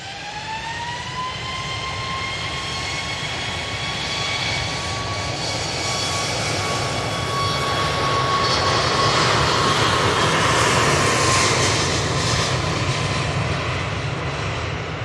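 A British Airways jet airliner at Manchester Airport roars loudly and steadily, a rising high whine from its engines sliding upward over the broadband rumble as it builds and swells toward the end.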